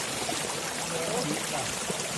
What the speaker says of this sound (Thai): ตอนนี้น้ำไหลเยอะเลย